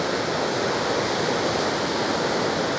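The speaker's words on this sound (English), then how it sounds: "I had to back away from the river. It's roaring down there." The flooding Merced River near Yosemite's west gate roars in a loud, steady, broadband rush of churning whitewater, continuous and close with no other sounds.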